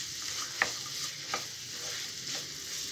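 Fresh peas are stirred into egg bhurji in a frying pan, a soft steady sizzle with a few light spatula scrapes and taps spaced out over a few seconds, close by and with no talking.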